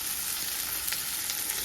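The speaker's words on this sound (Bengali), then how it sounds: "একটু একটু ভাজা ভাজা করে নামিয়ে নাও।" Cooked ivy gourd curry, returned to a kadai with a little too much oil, fries with a steady soft sizzle, close and even, with no voices.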